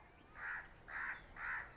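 Three harsh crow caws at an even pace, fairly close and clear over quiet background.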